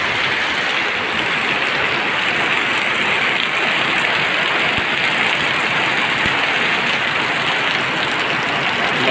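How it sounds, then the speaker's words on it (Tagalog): Heavy rain pours steadily and loudly, a dense continuous hiss with no pauses and no voices. "Lakas ng ulan."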